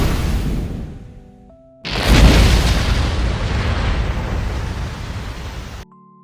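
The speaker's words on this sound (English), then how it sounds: "Fireball!" A fireball spell bursts in an anime scene with a sudden loud, roaring blast that sustains for about four seconds as a dense crackling rumble before cutting off.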